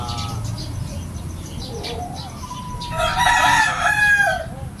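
Chickens cluck and murmur at a moderate distance over a low background hum, then a rooster crows loudly and close in a drawn-out call near the end.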